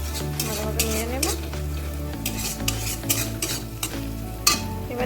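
Spice masala fries in a pan while a spoon stirs it, the sizzle running throughout under repeated scraping and clinking strokes with a faint low hum, close and fairly loud.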